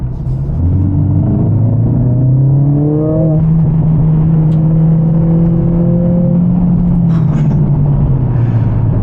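Mercedes CLA45s AMG with a modified exhaust revving hard, a loud deep engine rumble rising through a couple of pulls, then holding steady before settling, heard close with no talk.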